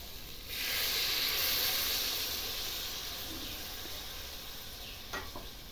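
Curry broth poured into a hot pan of sautéed spices and chilies for a jackfruit and prawn curry, giving a loud rush of steamy hiss that swells near the start, holds, then slowly fades, with a couple of faint clicks near the end.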